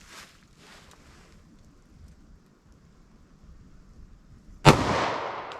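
A short-barrel .45 ACP pistol loaded with Nosler ASP ammunition fires a single sharp, loud shot near the end, after a quiet stretch of low background noise.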